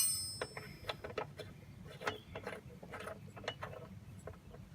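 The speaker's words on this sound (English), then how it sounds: "So, I do have a 13/16 wrench here. Let's see if we can pop this out." Wrench loosening a spark plug on a lawn mower: faint, close metallic clicks and ratcheting scrapes in quick irregular bursts over a low background hum.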